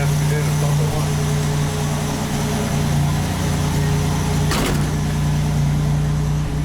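A 1987 Buick Grand National idles steadily and loudly up close just after starting, running rich, with a constant low engine hum and a brief clunk partway through.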